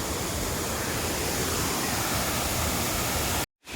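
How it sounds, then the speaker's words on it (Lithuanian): The first cascade of Ba Ho falls near Nha Trang, Vietnam, makes a loud, steady, dense roar of rushing water, close by and unbroken until a brief cut near the end. "Pirmas krioklys."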